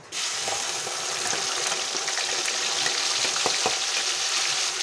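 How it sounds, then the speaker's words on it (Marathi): Onion paste fries in hot oil with whole spices like black cardamom, green cardamom and cloves for chhole masala, a continuous loud sizzle with occasional sharp crackles and stirring scrapes. "छान परतून झालं तर त्यामध्ये आपण कांद्याची पेस्ट टाकणार आहोत।"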